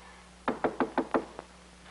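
Knocking on a door: six quick, crisp raps in a brisk, even rhythm, close and fairly clear against a quiet background.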